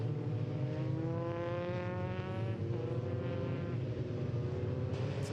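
A Formula 3 race car on a slow cool-down lap in the 2013 FIA European Championship, its engine droning steadily at moderate revs with a smooth, sustained tone and no speech.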